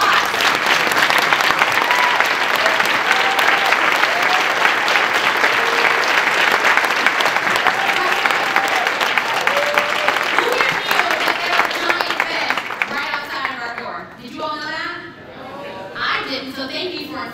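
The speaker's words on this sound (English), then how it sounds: "give them a round of applause." An audience at a Chicago Military Academy event in Bronzeville applauds loudly and steadily for about twelve seconds, then the clapping thins out and voices take over near the end.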